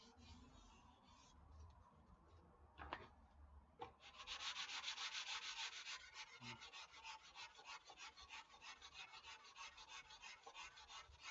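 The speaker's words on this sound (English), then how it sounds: "We're just going to do a gentle final sand here." Gentle hand sanding on a foam repair patch: a steady, soft, rhythmic rubbing and scratching close by, starting quietly, then strengthening into continuous strokes after a few brief knocks.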